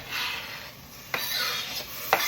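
Curried kidney beans with curry powder are stirred in a pot, soft scraping and rubbing strokes punctuated by two sharp clinks of the spoon against the pot, close and quiet.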